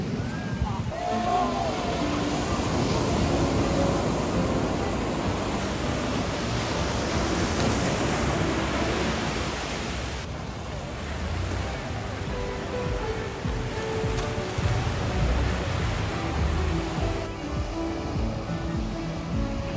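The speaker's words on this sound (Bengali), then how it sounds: "ওই পাশে কিন্তু অনেক বড় বড় ঢেউ" Large ocean waves break and wash at Saint Martin island, a continuous broad roar of surf mixed with wind buffeting the microphone, steady and fairly loud, with a voice talking briefly over it.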